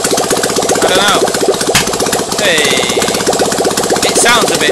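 A recently rewelded engine runs roughly as it warms up, a loud, steady mechanical clatter with intermittent higher whines and a sharp knock partway through, continuous throughout.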